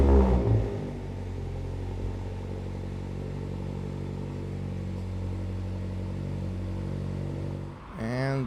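A Mazda Miata engine cold-starts with a short crank and catch, then settles into a steady, close, low idle rumble before a brief rev near the end.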